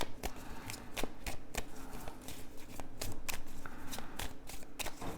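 Tarot cards being shuffled by hand, close and fairly quiet, with quick riffling bursts and soft slaps repeating at an irregular rhythm.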